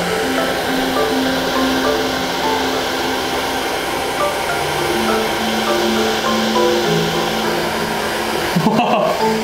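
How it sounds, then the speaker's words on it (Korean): A hair dryer blows a steady, close stream of air for colored airflow visualization, a continuous whirring rush with a faint motor hum that holds even throughout, then ends in a brief clunk. "이번에는 헤어드라이기로 공기의 흐름을 한번 보도록 하겠습니다"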